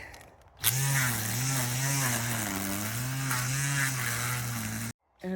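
A power trimmer cutting back a garden plot gives a steady, close, buzzing motor whine that wavers slightly in pitch as it works, running for several seconds before cutting off.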